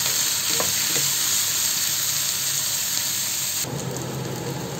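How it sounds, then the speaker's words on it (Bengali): Dried fish frying with onions in a pan for a Bengali curry of dried fish and flat beans, giving a steady, close sizzle that grows slightly denser near the end, with no talking. "পেঁয়াজের সাথে আমি ভেজে নেব।"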